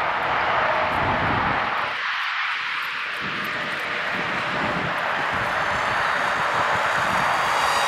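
A small model airplane's engine drones steadily at a distance, with constant wind noise and a brief dip partway through.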